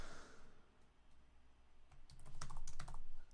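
Typing on a computer keyboard during a livestream presentation comes as faint, scattered key clicks that grow a little louder toward the end, over a quiet room background with no talking.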